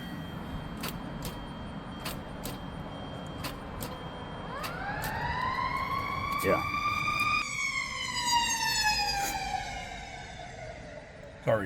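A passing emergency vehicle siren wails at moderate distance, its tone sweeping and rising then shifting pitch as it goes by, heard outdoors over a steady background rumble with a brief spoken word.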